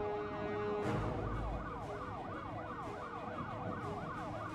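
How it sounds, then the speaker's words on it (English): Police car sirens wail underwater beneath the ocean in Shark Simulator, a steady repeating up-and-down cycle heard alone at moderate volume, with a low rumble under the first part. "The police cars are just chilling out in the bottom of the ocean."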